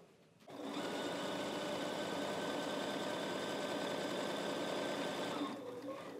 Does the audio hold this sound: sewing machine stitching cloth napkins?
yes